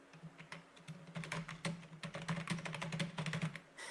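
Someone types quickly on a computer keyboard while setting up a website, giving a soft, continuous patter of key clicks that grows busier partway through. It sounds close but quiet, with no talking.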